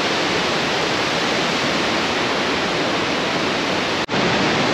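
A steady, loud roar of the Lodenavia waterfall, continuous and broadband, with a brief dropout near the end before the rush resumes.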